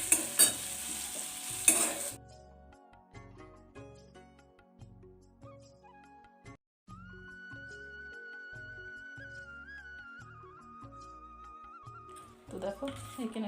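Coriander powder, cumin, dried and green chillies and bay leaves fry in a pan, loud sizzling and stirring at the start and end, with a tonal voice-like sound carrying through the quieter middle.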